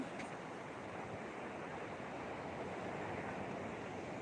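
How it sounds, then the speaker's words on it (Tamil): Steady, continuous wash of sea waves beside a boat house at Helen Nagar, with soft surf roar and some wind noise on the microphone, no voices. "பக்கத்தில் கடல் நல்ல அலை ரொம்ப அழகாக நல்லா இருக்கு"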